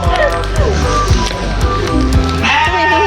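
A goat bleats at a farm feeding area in a highland garden, a wavering call rising over steady crowd chatter and background noise, with people talking nearby.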